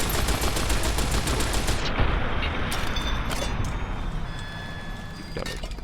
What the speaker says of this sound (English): He's using a 10mm SM shoulder-mounted machine gun.